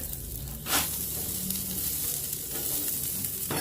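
Frozen French fries sizzle on a hot Blackstone griddle, a loud continuous hiss with a sharp surge of spitting as they hit the surface, then a steady fry close by.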